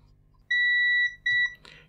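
A multimeter set to continuity beeps while testing a fuse in an arcade machine, giving two clean electronic tones, a longer one then a shorter one, close and clear in an otherwise quiet room.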